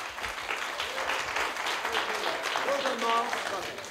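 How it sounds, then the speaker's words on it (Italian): Sustained crowd applause for manager Miles Copeland at an Italian televised award event honouring the Police, steady moderately loud clapping with a few voices and faint tones underneath. "Timido l'applauso, magari se lo facciamo un po' più forte per Miles."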